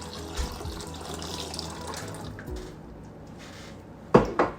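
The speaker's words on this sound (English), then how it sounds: "I'm gonna go ahead and add that cup of milk to the boiling water" A cup of milk pours steadily into a pot of boiling water over a low background hiss, ending with a short clatter of cookware.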